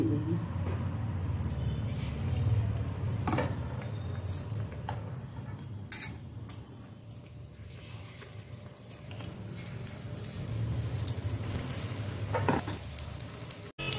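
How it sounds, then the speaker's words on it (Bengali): Battered eggplant slices fry in white oil for Bengali beguni, producing a continuous close sizzle broken by scattered pops and a few utensil clicks. "এই যে এতটা সাদা তেল দিয়ে দিলাম, একটা একটা দিয়ে তেলে দিয়ে দেবো।"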